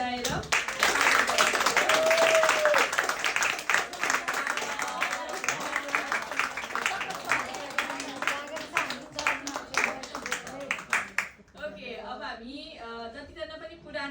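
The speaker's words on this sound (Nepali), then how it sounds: "फेरि पनि हामी एकचोटि ठुलो ताली बजाएर" A congregation claps at a church gathering to welcome new members. The applause is loud and sustained for around eleven seconds, then tapers off as a voice carries on.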